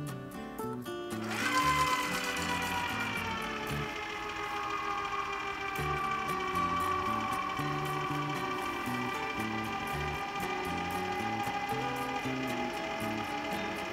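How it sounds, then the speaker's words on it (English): A small chocolate fountain with its basin heated starts its motor, a steady whirring hum with a faint tonal whine that runs continuously and close by, with no talk. "I have got enough chocolate in this little chocolate fountain, and we're going to turn it on now and see what it sounds like"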